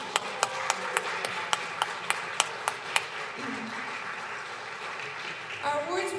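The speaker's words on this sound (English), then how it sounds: "Please join me in a round of applause for Janine." Light applause at a chamber of commerce business awards ceremony, with a series of sharp, evenly spaced isolated claps standing out above a soft background, fading into quieter room noise and a brief voice.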